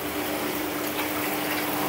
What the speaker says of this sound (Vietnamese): mình để gần hồ cá nó nghe cái tiếng róc rách của hồ cá này